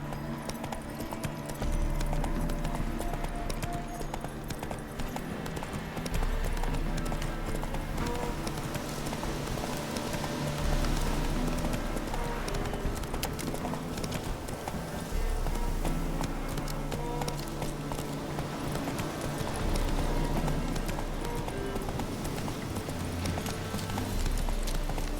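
A horse gallops in The Witcher 3, its hooves pounding out a steady, loud, rhythmic clip-clop that runs continuously over a low background.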